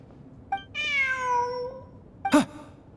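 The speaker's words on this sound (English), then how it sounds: "Look! A cat!" A cat in the video game Genshin Impact gives a clear, drawn-out meow followed by a shorter, sharper second call, close and alone against quiet game ambience.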